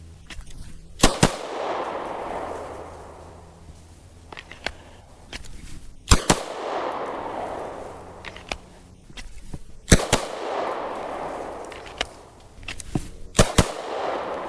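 Handgun shots crack out on an outdoor range during a retired officer's qualification, loud and close, fired in quick pairs spaced a few seconds apart with quieter shuffling between them.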